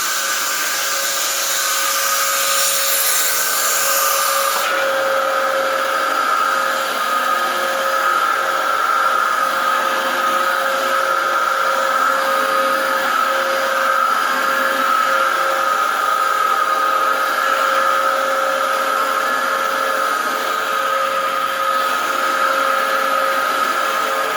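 A Dyson DC07 upright vacuum cleaner runs on carpet in an apartment with a loud, steady motor whine and airy rush that holds constant throughout, with nothing else heard.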